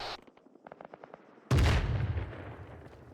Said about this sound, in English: That's a mortar. Was that IDF that just landed?